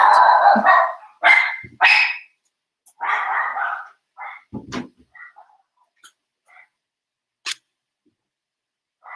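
Several dogs bark in sharp bursts, loud at first and then thinning out into scattered yips and short barks with quiet gaps between them.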